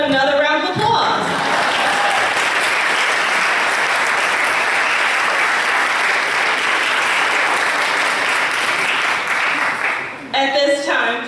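A crowd at a New Orleans civic grant celebration bursts into loud, steady applause that holds for about ten seconds. A voice is heard briefly just before it and again as it ends.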